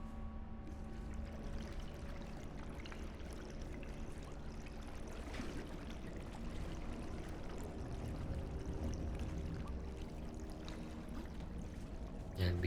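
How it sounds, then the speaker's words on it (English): Water rises in a dungeon in the Conan Exiles video game, making a faint, steady pouring and rushing wash that continues without a break and with no talk. "So once more, we just have to wait for the water to rise over here."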